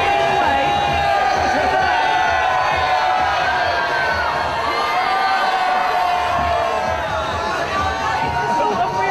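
A crowd cheering and shouting outdoors at Café Mambo in Ibiza, loud sustained whoops and high excited voices layered over dense chatter for several seconds.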